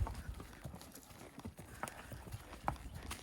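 Hooves clop irregularly over a rocky trail, close and fairly quiet, with scattered knocks and scrapes as a horse picks its way along.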